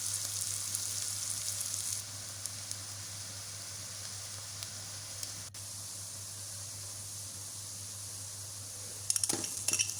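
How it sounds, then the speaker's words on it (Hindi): Onions frying in oil in a pan until light golden for an arvi masala curry, a steady broad sizzle running throughout with a constant low hum beneath and a few brief clinks near the end. "अब इसमें प्याज ऐड कर देंगे और इसको फ्राई कर लेंगे। इसको लाइट गोल्डन होने तक फ्राई करना है।"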